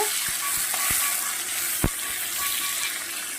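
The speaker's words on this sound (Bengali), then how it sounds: "আর ফোড়নটা দিয়ে ভাজতে থাকবো বন্ধুরা" Continuous loud sizzle of potatoes and whole spices frying in a pan, punctuated by sharp scraping taps of a spatula stirring, with no talking.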